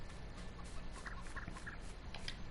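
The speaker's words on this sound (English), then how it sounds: "Hello, chickens." Farmyard chickens in Farming Simulator 19 cluck softly in short, repeated bursts, faint and steady against a low background hum.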